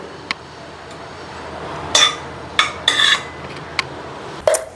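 A spoon mixes ghee in a bowl, giving a few sharp metallic clinks and short scrapes spaced apart over a quiet room background, close and fairly loud, with no talking.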